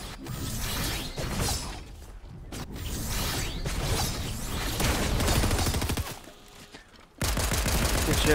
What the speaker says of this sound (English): Keep shooting, keep shooting.